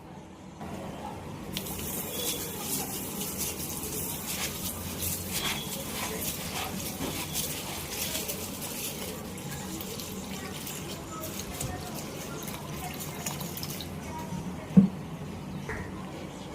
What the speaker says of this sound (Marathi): हे तांदूळ आणि डाळ आपण स्वच्छ धुवून घेऊया दोन तीन वेळा आपण स्वच्छ धुवून घेऊया